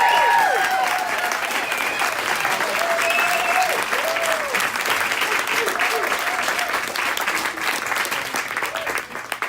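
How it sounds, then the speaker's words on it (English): A political rally crowd breaks into loud, sustained applause with some cheering for a gubernatorial candidate in Idaho, continuous and dense throughout. "That's how you get an applause."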